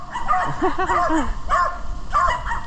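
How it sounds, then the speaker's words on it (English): Several dogs bark and yip at a hiker crossing their ground on the Appalachian Trail in Massachusetts in fall, the barks coming in repeated close bursts, loud and agitated. "got some dogs up here that aren't happy with me crossing"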